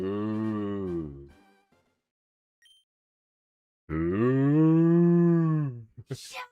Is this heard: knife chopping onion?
no